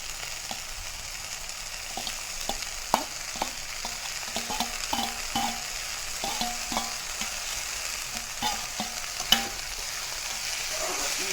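Meteka flowers being stir-fried with half-fried potatoes, a steady sizzle broken by repeated scraping and clinking stirs of a utensil against the pan, close and continuous with no talk.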